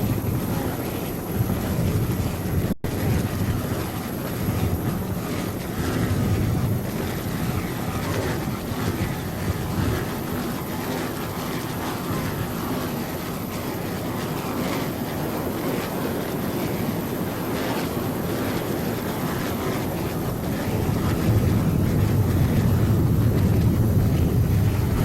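Offshore powerboats racing at the Key West World Championships, a continuous loud engine roar and rumble from several boats, building stronger near the end.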